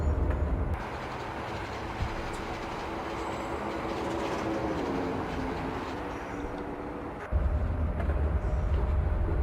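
A British Rail Class 304 electric train passing in the Open Rails train simulator, a steady rumbling roll with a faint rhythmic wheel clatter and a heavier low surge near the end.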